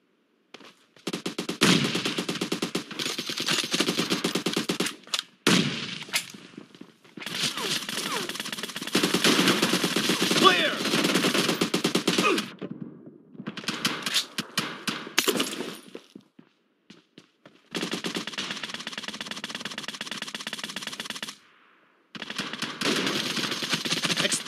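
Automatic machine gun fire in a shooter video game rattles in long, dense bursts separated by brief silent gaps, loud and close, with occasional short voice callouts.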